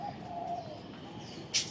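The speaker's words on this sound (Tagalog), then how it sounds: "Marinig mo na lang yung huni ng ibon." Birds chirp and a pigeon or dove coos on a deserted, quiet street during a typhoon, faint and distant, with one brief sharper call near the end.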